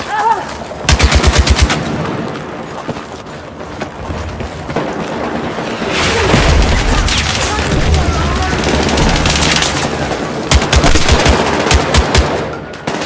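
Heavy gunfire rings out in Battlefield 6 combat: loud, rapid machine-gun bursts with sharp gunshots and booming impacts over a roaring battlefield wash, pausing and resuming throughout.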